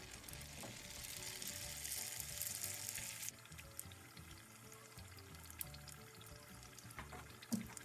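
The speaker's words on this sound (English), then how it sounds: "Now I'm going to repeat this process until all my crab rangoons are done frying." Crab rangoons fry in hot oil, a dense steady sizzle with crackling bubbles that softens slightly partway through, close and continuous with a sharp clatter near the end.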